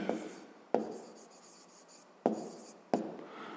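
Pen writing by hand on paper during a fifth-grade maths exercise, a soft continuous scratching with several sharp taps as the pen is set down or lifted, close and fairly quiet, with no voices.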